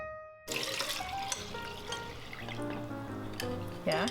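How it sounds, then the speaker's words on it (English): Water from a refilled coconut milk can pours into a small pot while making Thai green curry, a steady close splashing and trickling lasting a few seconds after a brief quiet start. "In the same can, we're going to fill it with water and pour that in as well."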